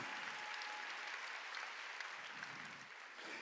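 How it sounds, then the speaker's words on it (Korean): Korean church congregation applauding during a sermon, a steady wash of many hands clapping throughout, fairly distant and even, with no voices rising above it. "믿으면 박수쳐"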